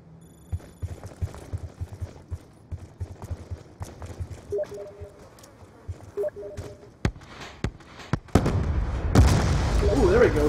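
Grenade blasts in a Black Ops 2 competitive match, with sharp transient pops and thuds through the first eight seconds and then a sustained loud roar of explosion noise at the end.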